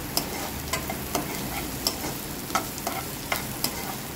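Sun-dried sliced onions frying in a kadhai for Karnataka-style dum chicken, a steady sizzle under regular spatula stir strokes with sharp periodic clicks, close and even, no talk.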